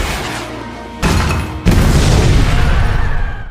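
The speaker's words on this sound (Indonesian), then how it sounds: "Gradov menembakkan roket ke arah gedung hingga menyebabkan ledakan besar" A rocket strikes a building in a film and sets off a large explosion. Two sudden loud blasts land about half a second apart, and a rolling roar and debris rumble follow them.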